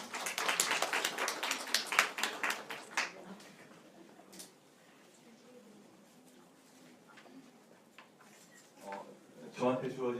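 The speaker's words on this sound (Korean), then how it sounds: "큰 박수로 환영해 주시기 바랍니다" An audience at a teacher's science presentation gives a short round of welcoming applause, strongest at the start and tapering off within a few seconds, followed by quiet room tone and someone speaking.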